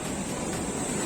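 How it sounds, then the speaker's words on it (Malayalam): Sea waves wash onto a beach at night, a soft, continuous rushing surf heard close but faint, with no voices. "കടല് തിരമാല വരുന്നോക്കി"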